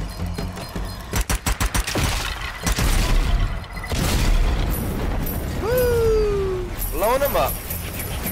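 Enemies are blown up in The Tunnels of Wadjet, heard as heavy booms and rumbling blasts with crackling bursts and rapid gunfire, plus sharp synthetic effects near the end, as someone talks over the action.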